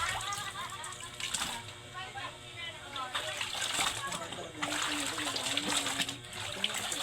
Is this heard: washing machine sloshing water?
yes